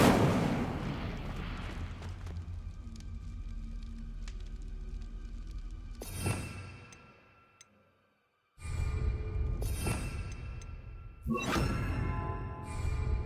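Incendio fire spells cast in the video game Hogwarts Legacy roar out as whooshing, crackling bursts of flame, one long rumbling blast followed by a short drop to silence and then several sharp fiery bursts.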